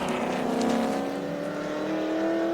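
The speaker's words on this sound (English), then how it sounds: "Car number 3, the VE Holden Commodore, comes across the stripe and he gets the last lap board." A VE Holden Commodore race car in an improved production car race crosses the start-finish line, its engine a steady, loud drone at high revs held close throughout.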